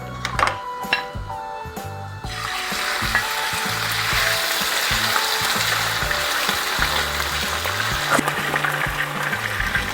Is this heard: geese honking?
no